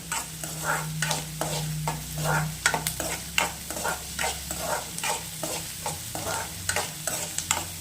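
Mushrooms for a pepper dry starter being dry roasted in a pan, stirred in quick regular scrapes over a steady low sizzle, close and alone.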